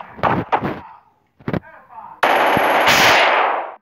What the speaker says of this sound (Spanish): ¿Quién está disparando, creo?